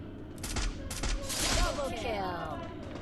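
Rapid SKS rifle gunshots in a battle royale shooter, a dense fusillade of loud sharp cracks with echoing tails, heard close up with no talk over them.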